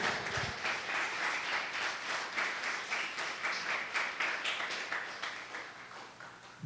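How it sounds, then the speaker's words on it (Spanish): A church congregation gives a sustained round of applause at a morning service, many hands clapping in a dense, rhythmic wash that pulses steadily at moderate distance before tapering off near the end. "Démosle un fuerte aplauso al Señor en esta mañana."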